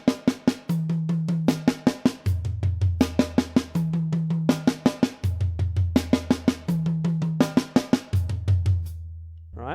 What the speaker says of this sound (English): it's basically going 4 notes on the snare, 4 16th notes on the tom-tom, then back to the snare for 4 16th notes